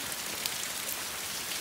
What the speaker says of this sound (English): It is absolutely pissing down.